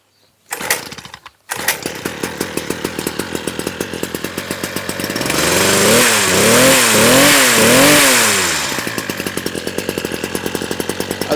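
A petrol hedge trimmer is pulled twice on its starter cord, then the small two-stroke engine catches and runs at a loud, steady buzz, revving up and down a few times in the middle before settling back to idle.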